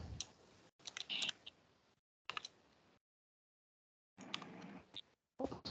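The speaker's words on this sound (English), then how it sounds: "what happened to my typing?" Computer keyboard typing in quick, uneven bursts of clicking keys separated by short pauses of silence, close and fairly quiet with no talking.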